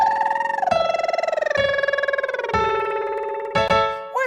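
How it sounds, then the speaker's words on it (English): A singer's lip trill buzzing on sustained pitches, gliding through a short vocal agility pattern in several connected phrases, close and fairly loud. "You could also do it on lip trills."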